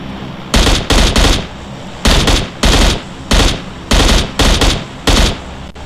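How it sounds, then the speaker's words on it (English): Bursts of automatic gunfire in the mobile battle-royale game PUBG Mobile, loud and close, coming in short rapid volleys separated by brief pauses, with no talk over them. "Wait, I hear your gunshot right there."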